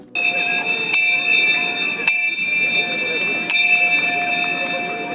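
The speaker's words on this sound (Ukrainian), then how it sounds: "Сьогодні для них лунає останній дзвоник" A bright school last bell rings with sharp repeated strikes and a sustained metallic tone, loud and steady throughout.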